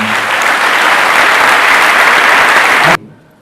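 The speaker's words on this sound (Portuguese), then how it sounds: "Você pode aplaudir Jesus de novo" A church congregation applauds during a Sunday service, a dense, steady wash of clapping filling the room for about three seconds before cutting off abruptly into near silence.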